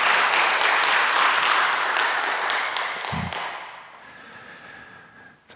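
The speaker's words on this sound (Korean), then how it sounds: "우리 여러분 박수로 한번 크게 축복해 주시면 감사하겠습니다." A church congregation claps together in rhythmic unison, strong and full for about three seconds, then the applause thins and fades out into near quiet.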